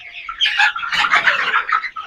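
Chickens on a small poultry farm cluck and chatter close by in a continuous busy flurry of short calls with no talk.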